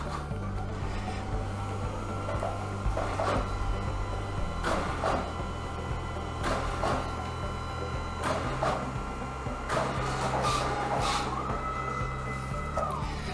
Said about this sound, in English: It should start coming out of my printer in just a second.